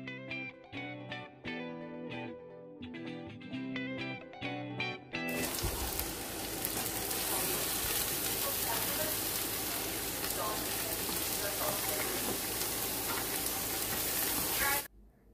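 Garlic and onion tempering hits a hot pan with a sudden loud, dense sizzle that keeps frying steadily near and close. It is preceded by a quieter, tonal stretch with speech-like sound.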